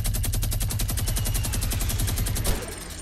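Rapid automatic gunfire from the video game Fortnite rattles off in a steady burst of evenly spaced shots, loud and close, ending abruptly with a final louder crack.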